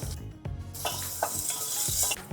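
Asafoetida and curry leaves hit hot oil in a tempering for rasam, setting off a loud, steady crackling sizzle with spoon clinks and stirring scrapes, and no talking.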